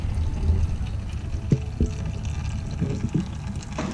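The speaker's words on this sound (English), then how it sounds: "We have the rear diff draining." Gear oil drains from the rear differential of a Porsche 987 into a collecting pan, a steady close trickle and pouring with occasional drips and small clunks, no talking.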